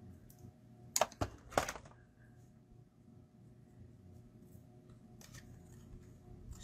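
A few sharp snips of scissors cutting laser-cut paper at a craft table, clustered early and close, followed by quieter rustling and handling; a voice speaks briefly.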